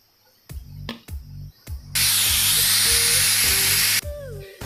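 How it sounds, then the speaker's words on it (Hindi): A pressure cooker on a gas flame, cooking rasgulla, lets out a loud, steady steam hiss and whistle for about two seconds, preceded by a few sharp knocks and rattles. "एक सीटी लग चुकी है"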